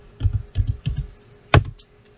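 Keystrokes on a computer keyboard while entering a command in AutoCAD, a few separate taps spread over two seconds with a sharper final press, close and fairly quiet with no talk.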